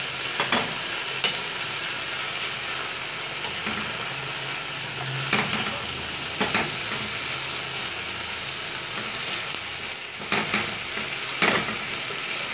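Bell peppers frying in a pan for a shrimp and vegetable sauce, a steady low sizzle broken by a few scraping stirs, close but fairly soft, no speech.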